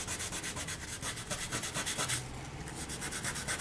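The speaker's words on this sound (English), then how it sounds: "And just continue sanding along the outside." Steady back-and-forth sanding strokes rub against a hard polymer clay edge in a quick, even rhythm, close and moderately loud, with no voices.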